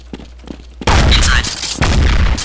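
Carbine and pump shotgun fire in Counter-Strike: Condition Zero, a loud close burst of rapid gunfire that starts abruptly after quiet soft clicks and runs almost continuously with a short dip midway.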